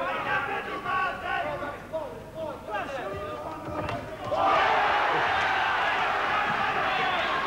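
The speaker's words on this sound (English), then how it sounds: "There's a big ooh from the crowd there" The crowd at a boxing bout rises into a loud sustained ooh after a punch lands, swelling over a commentator speaking beforehand.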